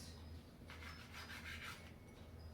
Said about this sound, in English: a little sawing gently with the serrated works